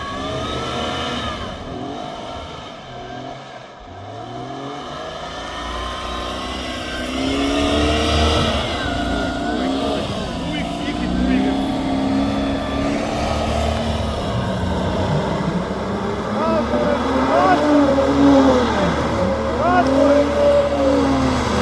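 A car drives with its engine revving and droning steadily close by, the pitch rising and falling, while people talk over it.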